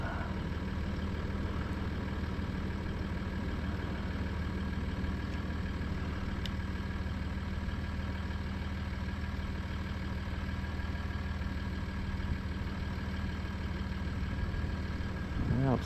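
A Tamiya RC car holds full throttle at a speed-run event, giving a steady, continuous motor drone with a faint high whine that never lets up, heard from a constant distance with no voices.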